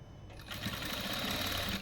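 A sewing machine stitches a piping hem along fabric, running as a steady continuous whir that picks up slightly after a quieter start and stays close and even to the end, with no talking.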